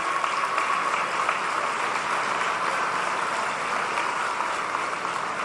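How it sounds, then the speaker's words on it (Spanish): An audience at a public government event in Mérida, Yucatán applauds in an even, continuous wash of clapping, moderately loud and with no voices on top. "un aplauso para todas nuestras compañeras y compañeros"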